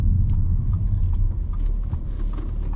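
A 2013 Audi SQ5 3.0 BiTDI diesel with Tiptronic quattro drives along. A low, steady engine rumble and road drone hold under faint cabin ticks, and no voice is heard.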